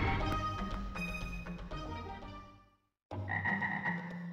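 Frogs croak in the PlayStation game Megaman Legends, a loud, close, continuous chorus of croaks that drops to silence for a moment and then resumes just as strongly.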